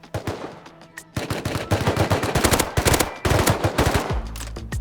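Rapid gunfire from the survival video game Rust during a nighttime fight, with bursts of loud, close shots rattling off in quick strings and several short pauses between volleys.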